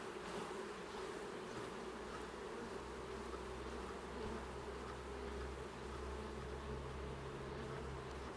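Honey bees buzzing near a hive during an apiary inspection, a dense, steady drone filling the air close by, continuous throughout without speech.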